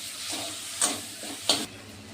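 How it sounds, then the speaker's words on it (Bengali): Chopped tomatoes sautéing with spices and bay leaves in a pan for a potol (pointed gourd) dish, a low steady sizzle with two brief louder stir-scrapes, close and alone. "এখন টমেটো কুচিগুলো আমি এখন ভালো করে কষিয়ে নেব।"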